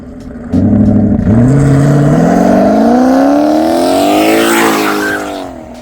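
A turbocharged GT car with an inline-three turbo engine and a manual gearbox accelerates hard and close, its note climbing steadily through the revs in one long, loud pull before easing off near the end.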